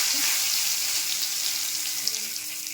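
Whole spices and a bay leaf sizzle in hot oil for an egg, potato and capsicum curry, a steady bright hiss throughout with faint crackles, close to the pan.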